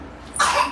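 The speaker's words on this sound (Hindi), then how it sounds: "खांसी" A single sharp cough bursts out after a quiet lead-in, close and fairly loud, with a brief rough tail and no talk around it.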